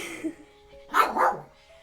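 A puppy lets out a couple of short, close yips and barks in quick succession, with soft voices nearby at a quiet indoor setting.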